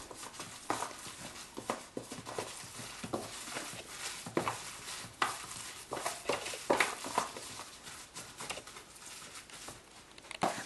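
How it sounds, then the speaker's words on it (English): Fishcake mixture being mixed in a bowl by hand, a soft, irregular squelching patter with small taps spread across the whole stretch, close and fairly quiet with no talking. "Make sure you mix well."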